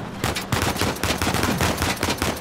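Rapid bursts of gunfire from the video game Uncharted 4, loud and continuous across the whole stretch, with dense overlapping shots and no voices.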